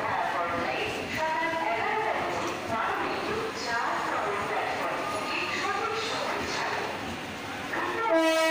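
The 13053 Kulik Express passenger train running, heard from inside a non-AC second-class coach as a steady, loud rolling rumble with clattering and tonal horn-like sounds rising near the end.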